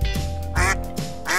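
Duck quacks for a yellow duck, three loud nasal honks in quick succession, close and clear with no talk over them.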